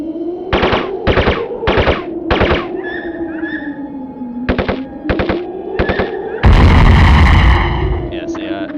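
Gunfire in the Spec Ops: Ranger Elite video game comes in short rattling machine-gun bursts, several in a row, then a loud explosive blast near the end, with a person talking underneath.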